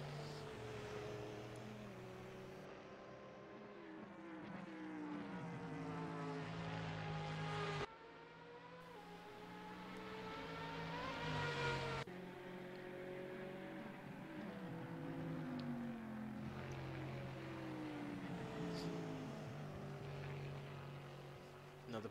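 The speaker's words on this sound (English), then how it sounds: "Lovely sound from the Corvette engine as they come down towards Ascari once again." A Corvette race car engine in a Monza endurance racing video game roars toward the Ascari chicane, its pitch rising and dropping through gear changes in a continuous loud drone with no talk.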